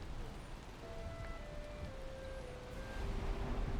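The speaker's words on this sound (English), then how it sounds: "listen to the pitter patter of the rain" Steady soft rain hiss at a beach with a low rumbling wash of waves beneath it, faint and continuous, with a few thin high tones drifting through.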